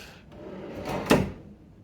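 A hotel room drawer slides with a brief wooden rumble, ending in a soft thud as it shuts, heard up close.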